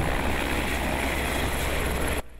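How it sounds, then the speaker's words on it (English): A low-flying helicopter surveying over the Bryan–College Station area, near Easterwood Airport: a loud, dense, steady rotor and engine roar that fills the scene, then cuts off abruptly at the end. "you may have noticed a low-flying helicopter around BCS today"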